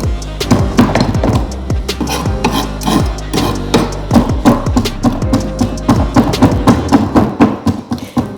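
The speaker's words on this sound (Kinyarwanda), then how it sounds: "Ukadushopinga ukatugiramo duto cyane." A knife chops salad vegetables into small pieces on a cutting board: loud, rapid, steady knocks on wood repeating without pause, close up and alone.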